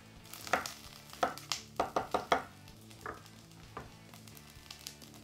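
An onion is chopped with a knife on a cutting board, a slow, careful run of about a dozen crisp, close knocks in an uneven rhythm, with a faint sizzle of cooking behind it.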